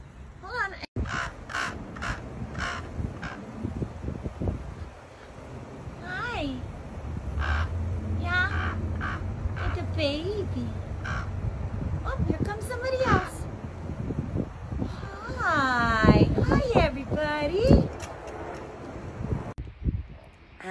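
Ravens caw repeatedly outdoors, harsh calls rising and falling in irregular bursts, some close and loud, with wind noise and rustling around them and a person talking at times.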